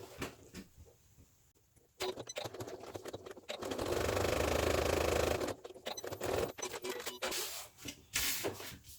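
A sewing machine runs a second row of stitching on a fabric bag panel, with a steady mechanical whir lasting about two seconds, framed by shorter start-stop bursts and fabric handling rustles.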